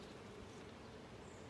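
Honey bees swarm around an open beehive during a hive inspection, their soft continuous buzzing steady and faint throughout with no talk.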